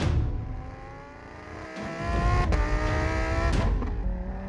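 A 2022 Lamborghini Huracan Tecnica with a 5.2 litre engine tuned to STO specs driving at speed, a loud steady engine drone that swells and rises in pitch with a brief gearshift dip midway, heard from nearby.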